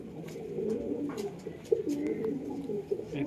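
Doyaj pigeons in a home breeding loft coo in a low, steady murmur, with a few sharper calls rising above the close, continuous burbling.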